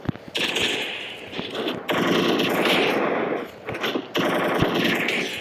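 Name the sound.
Desert Eagle gunfire in the video game Free Fire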